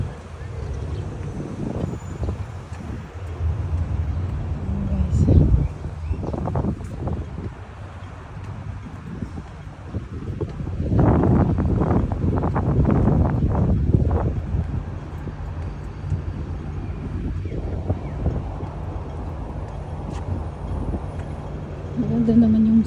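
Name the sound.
breeze blowing while walking outdoors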